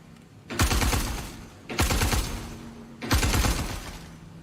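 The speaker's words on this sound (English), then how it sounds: "your gunshots are hitting the, let's say, the ground here and delaying and coming back to you" Three loud video game gunshot bursts in Star Citizen, evenly spaced, each with a long echoing tail that fades before the next, with no voices.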